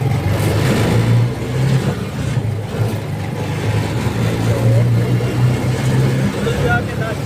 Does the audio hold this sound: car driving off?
yes